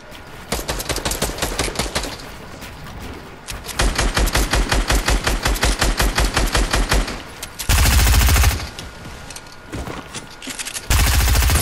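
Rapid bursts of machine gun fire from an aircraft in a combat video game, several long rattling volleys separated by short pauses, loud and close with no talk over them.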